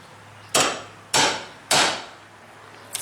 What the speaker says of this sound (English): we're chiseling out hinges, or the area where our hinge is